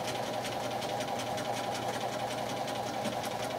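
A sewing machine stitching a fabric hem runs in a steady, close, continuous whir with a fast regular needle rhythm and no pauses.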